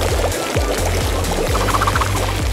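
Hot water pours from a kettle in a loud, continuous, gurgling stream that lasts the whole stretch, close by, with no voices.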